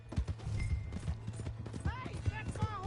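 In Red Dead Redemption 2, a horse's hooves clip-clop in a quick, uneven rhythm, moderately close and fairly quiet, mixed with shouting voices and a brief whinny-like cry.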